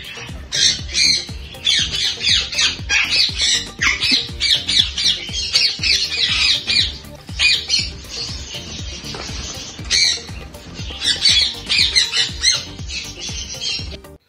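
Small cage birds in breeding cages, including a high red factor female, give rapid repeated squawks and chirps close by throughout, with faint handling noise underneath.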